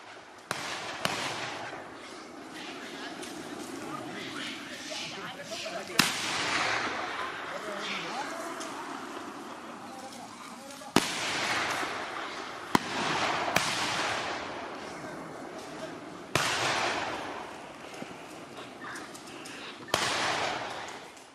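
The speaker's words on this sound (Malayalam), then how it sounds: "വെടിയൊച്ചയും വലിയ ശബ്ദവും ഉണ്ടാക്കി കാട്ടിലേക്ക് തിരികെ ഓടിക്കുന്നതുവരെ കൂട്ടുകാരന് കാവൽ നിന്നു ഗണപതി." Gunshots and loud bangs ring out to drive a wild elephant back into the forest, sharp isolated cracks spaced several seconds apart over a continuous rumble of noise, with voices talking underneath.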